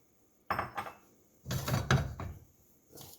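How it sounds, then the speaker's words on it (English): Chickpeas added to a greased pan for a chickpea salad: two bursts of rattling, tumbling noise as they pour and scatter, with scraping between, close and fairly quiet. "And so I'm going to add our chickpeas."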